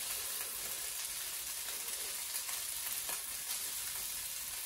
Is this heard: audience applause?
no